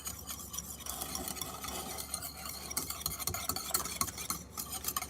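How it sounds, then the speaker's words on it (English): Whisk stirring a baking mixture into a paste in a bowl, a continuous close scraping and swishing with a steady, busy rhythm at low level, no voices. "we're gonna, I guess, take a whisk and stir this up too"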